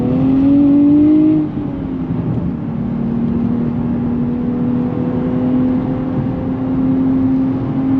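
A 2024 Nissan Z Nismo sports car on GTR-spec tires accelerates while warming its tires, the engine revving and then settling into a sustained loud drone heard from inside the cabin.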